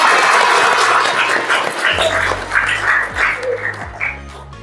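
A classroom of students applauds together, a dense burst of clapping that fades gradually, with a low hum entering partway through.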